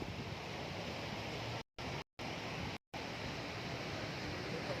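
Strong flood current of the Marikina River during Typhoon Paeng roars as a dense, constant rushing wash at the riverbank, broken by three brief silent dropouts.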